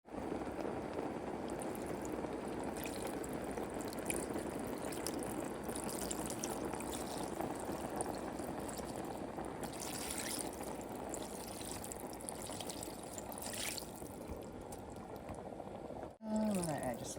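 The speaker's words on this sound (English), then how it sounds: "Now we're going to add the water." Water poured into a pot of turnip greens cooked with beef bones and a little leftover chicken-frying oil, a steady broadband splashing stream running for about sixteen seconds before stopping abruptly.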